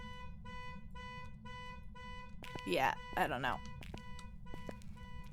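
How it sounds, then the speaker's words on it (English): A car alarm sounds with a regular, evenly spaced series of electronic tonal beeps, steady and moderately loud, while a person speaks briefly over it partway through. "Does anybody know how to turn the car alarm off?"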